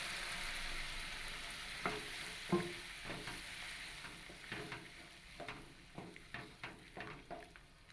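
Boiled chana dal goes into a pan of fried spices for a vegetarian Bengali dal with hing, giving a faint sizzle with a series of close spoon stirs and scrapes that quicken toward the end.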